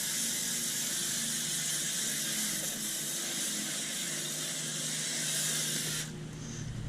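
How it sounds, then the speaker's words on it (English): A steady water spray hisses close and loud for about six seconds as a 1979 Corvette rear interior trim panel is rinsed off, then cuts out abruptly. "rinse it off."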